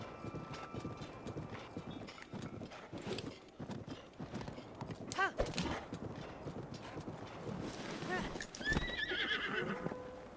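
A horse in a video game on Nintendo Switch 2 trots with steady clip-clopping hooves and gives a loud neigh near the end, with some talk underneath.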